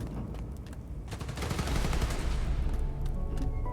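Dense bursts of rapid gunfire from the Spider-Man: Miles Morales video game roll on in a continuous loud, crackling barrage, with no voices.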